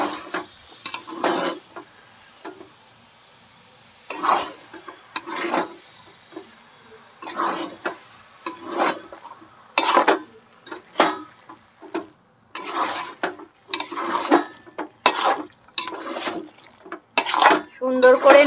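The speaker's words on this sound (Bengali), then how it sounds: "সুন্দর করে নাড়বো।" Mutton fat being stirred in a cooking pot for ghugni in a village kitchen, bursts of scraping and sizzling strokes repeated in an irregular rhythm with short quiet gaps between them, close and fairly loud.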